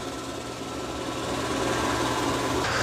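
A Dreame X40 Ultra robot vacuum runs with a steady, even whirring hum, its brush roller lifted off the floor, the motor drone constant and close with no talk.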